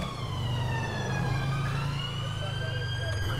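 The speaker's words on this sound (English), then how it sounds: "I can hear some sirens in the distance." Police sirens wail in GTA 5, rising and falling in steady drawn-out tones over the constant drone of a car engine. They sound moderately distant and continue throughout.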